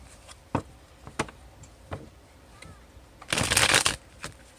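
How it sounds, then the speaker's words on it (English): A deck of tarot cards is shuffled by hand in a quiet room: several short riffling snaps spaced apart, then one longer, louder burst of riffling near the end. "I'm going to shuffle one more time."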